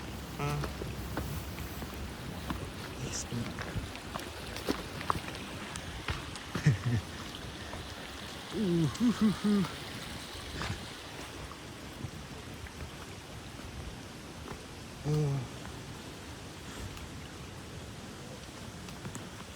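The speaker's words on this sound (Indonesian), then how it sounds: "Adem banget ya suara air nih" Water flowing in a stream on Mount Pangrango, a steady close rushing and babbling wash with brief louder splashes and rustles, faint voices now and then.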